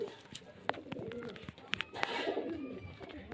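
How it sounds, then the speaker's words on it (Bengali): Pigeons, including pairs of biscuit pigeons, at a loft: soft cooing and rustling with brief chirps and wing flutters, close and fairly quiet. "এই যে দেখতে পাচ্ছেন পায়রা"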